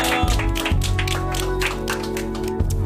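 A studio group claps together on a variety show, a dense, steady patter of applause mixed with loud background music throughout.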